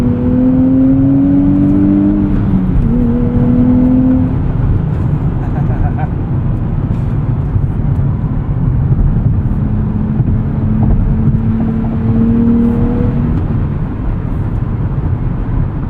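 Steady low road and engine drone from inside a 2023 Nissan Z cruising on the highway at 75 mph around 2,700 RPM, with a little tire noise, running continuously while someone talks over it.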